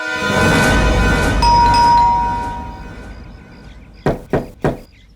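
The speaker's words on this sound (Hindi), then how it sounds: "रजत, दरवाजा खोलिए।" Three firm knocks land on a house door in quick succession near the end. They follow a loud, ringing doorbell-like tone that fades out, with no voices.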